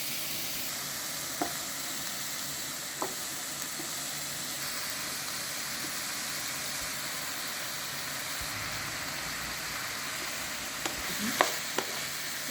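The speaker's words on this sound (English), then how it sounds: "You are gonna mix your potatoes with onions. On medium fire" Potatoes and onions fry on medium heat in a pan, giving an even, hissing sizzle throughout with a few sparse spatula knocks and a small cluster of scrapes near the end, with no voices.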